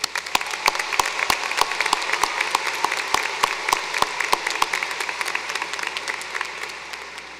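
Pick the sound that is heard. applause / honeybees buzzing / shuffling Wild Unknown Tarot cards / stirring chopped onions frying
applause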